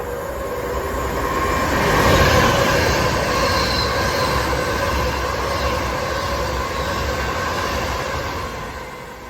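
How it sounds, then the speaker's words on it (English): Train at Crewe station on the West Coast Main Line, rolling through with a steady loud rumble, rising then holding, with wheel squeal and rail hiss, heard close with no talk. "This train is formed of 4 coaches."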